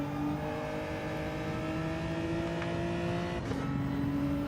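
A race car engine in a racing video game hums with steady tonal drones that shift pitch slightly, moderately loud and continuous with no talking.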